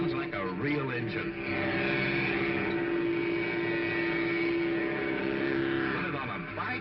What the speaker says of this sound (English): Mattel's new Baroom hot rudder engine